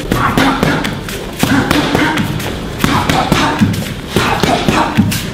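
Punches land on Pencak Silat training pads (paos and bear paws) in a steady series of close, heavy thuds, each followed by a brief reset, with no talk.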